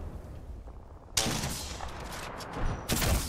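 Bursts of rapid gunfire in an Apex Legends match, loud automatic volleys starting abruptly and returning in a second heavy burst, close and harsh.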